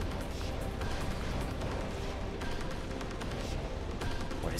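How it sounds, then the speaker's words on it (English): Sustained gunfire aimed at the player in the Beyond Good & Evil video game, a dense, continuous barrage of rattling shots and crashes filling the whole stretch at steady loudness. "Are they shooting at me?"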